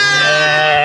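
A sheep bleats in a pen in the Aït Atta region of Morocco, a single sustained, wavering cry held close and loud for under a second.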